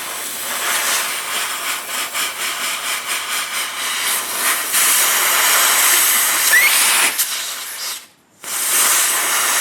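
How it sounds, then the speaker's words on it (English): Compressed air from an air compressor hisses through a rubber-tipped nozzle, a loud broadband rush with fluttering pulses that runs steadily and cuts out briefly near the end before resuming. "I'm going to use a rubber tip nozzle here from the air compressor."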